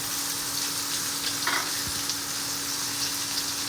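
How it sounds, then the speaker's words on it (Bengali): Chopped onion dropped into hot oil with torn bay leaves and chillies for an egg curry, a steady bright sizzle of frying, close and even, with a brief stir midway. "আর যে পেঁয়াজ কুচিটা রেখেছিলাম ওটা দিয়ে দিচ্ছি"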